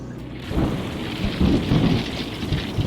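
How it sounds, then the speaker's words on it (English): Thunderstorm with steady rain on a road trip in New Mexico near Four Corners, a continuous wash of rainfall with low rolling thunder swelling through the middle and again near the end, no voices. "Now the storm has come."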